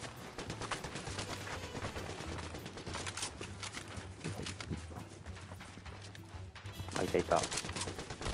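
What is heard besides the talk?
gunfire in Fortnite video game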